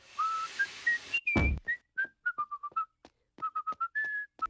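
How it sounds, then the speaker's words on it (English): A clear, bright whistled melody, one person whistling a theme tune in short separate notes, with a brief noisy burst near the start. "whistling the theme tune to the show"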